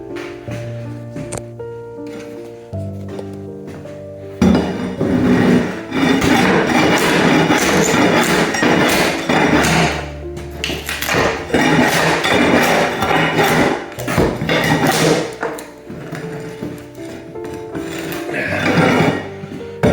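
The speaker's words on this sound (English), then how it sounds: "I'm just getting the last little tack strip up from the carpet" Carpet tack strip being pried up from a floor during carpet removal, giving a run of close, loud scraping, knocking and splintering wood-and-metal clatter with brief pauses, no talk.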